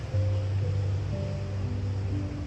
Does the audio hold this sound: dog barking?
no